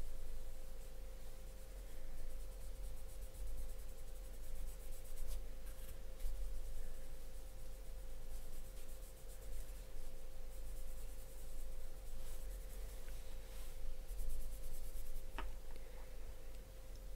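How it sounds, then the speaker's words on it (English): A pencil scratches and rubs steadily over paper in continuous close strokes while shading an artwork, under a faint steady electrical hum. "I might come in with a pencil and just go over that"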